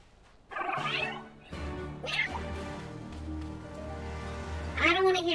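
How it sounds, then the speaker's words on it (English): A cat meows several times up close in a game, with drawn-out, wavering calls and a longer caterwaul in between. "I don't want to hear, Cat."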